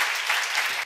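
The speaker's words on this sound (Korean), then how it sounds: "박수야." Brief burst of congregation applause during a church seminar sermon, a dense, soft wash of clapping lasting under a second.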